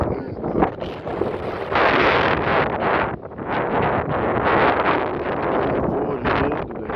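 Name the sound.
strong wind gusts outdoors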